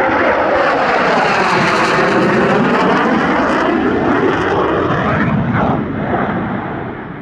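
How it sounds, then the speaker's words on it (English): A Boeing F/A-18D Hornet jet flies a solo display at an airshow, its loud, close jet roar rumbling and rolling continuously before easing slightly at the end. "Solo displays next, and we start with the FA-18D Hornet."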